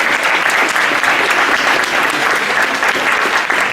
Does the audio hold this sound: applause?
yes